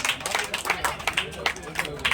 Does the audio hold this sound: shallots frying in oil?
no